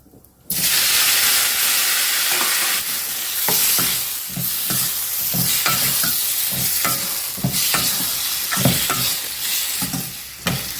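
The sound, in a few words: frying chopped tomatoes for chutney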